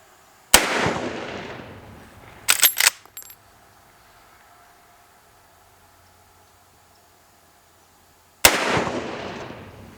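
A Marlin 336 Classic lever-action rifle in 30-30 fires 150-grain soft points at steel plates 200 yards away. Two loud, sharp shots ring out several seconds apart, with a burst of metallic clatter between them and near silence otherwise.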